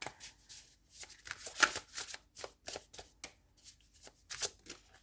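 An astrology oracle card deck being shuffled by hand before a single card is drawn, close, crisp bursts of riffling and slapping cards in an uneven rhythm, with no speech.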